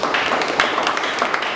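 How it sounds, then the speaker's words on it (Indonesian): An indoor audience at a youth outreach event applauds in a dense, continuous burst of clapping, close and even in loudness throughout. "Sisi tepuk tangan untuk pemuda."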